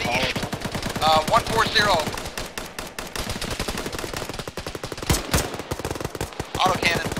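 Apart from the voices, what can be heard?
autocannon fire in the video game Arma (ShackTac)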